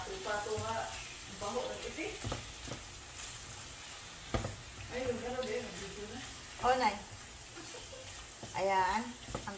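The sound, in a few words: ground pork (giniling) frying in a pan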